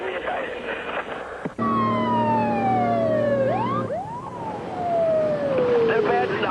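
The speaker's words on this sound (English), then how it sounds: "I can hear traffic, and I did hear your fire siren blow." A wailing fire engine siren sweeps up and down loudly, rising and falling repeatedly over faint background noise, with a brief thump early on.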